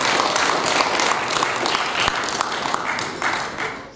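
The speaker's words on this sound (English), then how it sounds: "I think we should big applause to Private International." Audience applause at the official IONShield product launch: loud, continuous clapping from a crowd that holds steady across the whole stretch, with only faint voices underneath.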